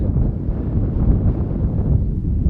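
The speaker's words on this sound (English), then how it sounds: "It's a wee bit windy here as well, actually." Steady, rumbling wind buffeting the microphone outdoors near Loch Chiarain in the Scottish Highlands, a continuous low roar with gusty fluctuations and no other clear sounds.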